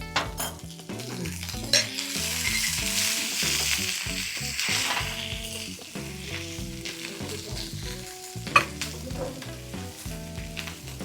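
A roasted, ground masala paste sautéed in a pan, a steady close sizzle with the rhythmic scrape and clack of a spatula stirring against the metal, a couple of sharper knocks, no talking.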